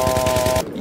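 Rapid automatic gunfire in Battlefield 3, a close, loud burst of about seven evenly spaced shots that cuts off sharply.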